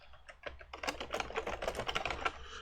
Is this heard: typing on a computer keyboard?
yes